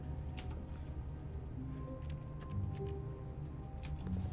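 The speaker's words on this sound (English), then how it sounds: "My fingers seem to make keyboard clicking noises." Keyboard clicking in The Stanley Parable, a steady run of light, evenly spaced ticks over a soft ambient background hum, with no speech.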